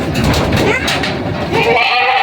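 Goats on a farm in Agoncillo, Batangas bleat loudly and close by, overlapping calls forming a continuous noisy chorus with no clear gaps.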